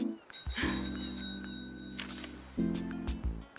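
A tiger bell on an electric blue five-speed cartoon bicycle rings in a short trill, set against a sustained low musical tone and a brief later accent.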